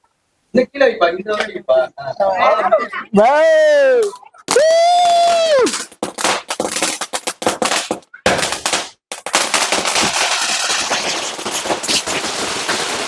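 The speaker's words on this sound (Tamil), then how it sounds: "வெடி சூப்பரா இருந்துச்சு" Sharp, loud Sivakasi Diwali firecracker bursts crackle in rapid bunches, mixed with shouting and excited voices, followed by a long hiss of sparkling crackle.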